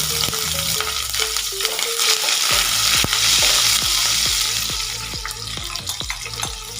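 Diced onions hit hot oil in a pan for milk pasta, giving a loud, busy sizzle with repeated scraping stirs and spatula knocks against the pan, and a faint hum running underneath.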